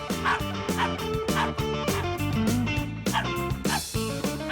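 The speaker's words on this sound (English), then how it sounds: "That's enough with the barking." A cartoon dog barks repeatedly and rapidly at close range, with high yipping, whiny barks following one another in a steady, insistent rhythm.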